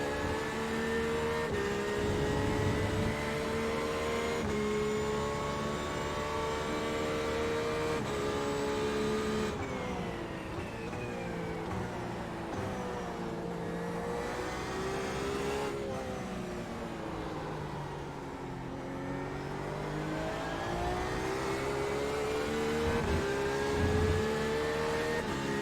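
Race car engine in the iRacing sim, a steady loud high-pitched whine rising and falling through revs and gear changes for the whole stretch, with no break.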